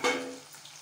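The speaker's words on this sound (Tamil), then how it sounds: "நல்லா சிம்மில் வச்சு கிளறுங்க, இல்லைன்னா அடி பிடிச்சிருமுங்க" Country chicken pepper fry sizzles in a pan on a simmer while being stirred, with a short bright hiss that peaks at once and then fades quickly, faint and close.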